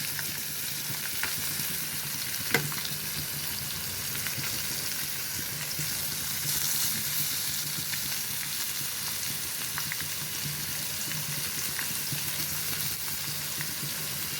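Boiled broad beans and potatoes sizzle and fry in a pan with a steady, close crackling hiss and light stirring clicks throughout.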